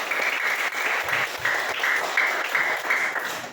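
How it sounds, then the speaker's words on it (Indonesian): A classroom of students gives a round of applause, steady rapid clapping from many hands at moderate volume, sustained evenly for a few seconds without talk. "Tepuk tangan untuk Arno."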